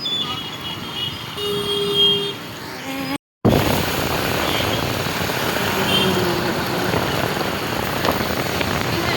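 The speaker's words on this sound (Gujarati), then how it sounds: "પલળી જવાય ને થોડુંક વરસાદમાં" Steady rain hisses and patters on surfaces, briefly cutting out before resuming louder and fuller for the rest.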